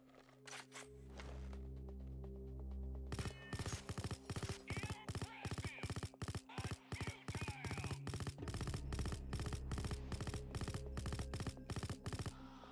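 Suppressed light machine gun fire in Payday 2: a steady hum, then repeated short bursts of muffled, thudding shots in quick rhythm, close and fairly loud throughout.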